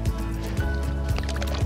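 A carp of about 1.2 kg is slipped back into the water during float fishing, with close splashing and sloshing that repeats in soft, uneven surges.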